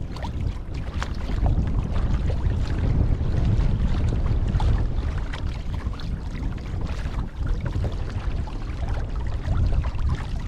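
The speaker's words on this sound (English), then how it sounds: "All right, wind's picking up a little bit." Wind gusting around a 2021 Hobie Mirage Compass kayak out on the water: steady, broadband rushing and buffeting against the microphone, mixed with faint water lapping, with no voices.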